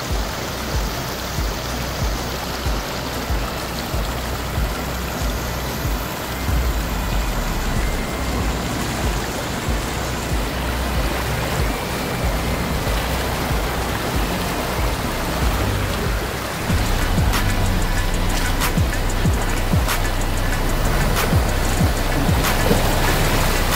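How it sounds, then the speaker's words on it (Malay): A vehicle fords a river at a wild campsite. Steady broadband rushing and splashing water runs for the whole stretch and swells louder near the end, with no talk over it. "Kita akan melintasi sungai guys."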